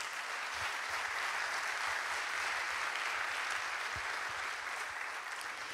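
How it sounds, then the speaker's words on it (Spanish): A crowd at an innovation event claps for Chile's anniversary, a sustained, uniform roar of applause from many people, steady and full from start to finish. "Quiero pedir un aplauso para Chile que está de aniversario."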